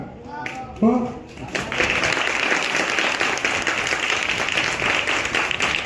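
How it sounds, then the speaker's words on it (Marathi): After a moment of talking, schoolchildren at a school event break into sustained applause, loud and close, with many hands clapping steadily to the end. "तुम्ही जास्त टाळ्या त्यांच्यासाठी वाजवायला पाहिजे होते ना"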